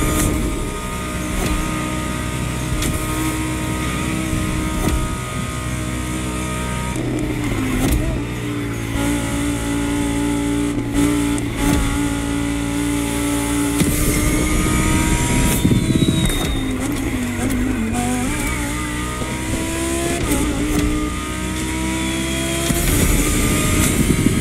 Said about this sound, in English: Gonna push that car to its max speed or what?